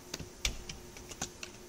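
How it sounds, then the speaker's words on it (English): Someone types on a computer keyboard, with about eight crisp keystrokes in an irregular rhythm, close and clear, and no talking. "as we start typing something in here"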